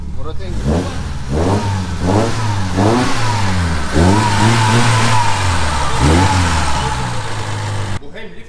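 A Honda Civic Type R engine revs repeatedly, each rev rising then falling in pitch, loud and close in a garage with an aluminium intake, with voices talking faintly alongside.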